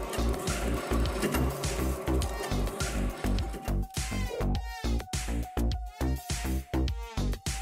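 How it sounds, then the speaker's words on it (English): A thread-cutting machine forms threads on fed bolt blanks, producing a fast, regular mechanical clatter of repeated loud impacts, with a tonal whine joining partway through. "this is probably the quickest way to cut a thread on a bolt. You just need to feed the bolt blanks to the machine."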